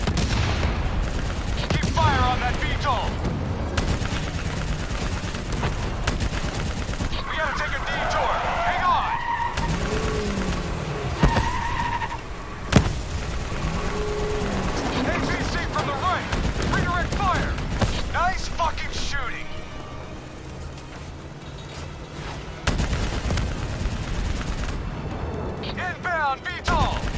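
Heavy gunfire in Call of Duty: Black Ops 3, sustained automatic bursts and explosions aimed at a VTOL aircraft, loud and continuous with brief lulls, under shouted combat dialogue.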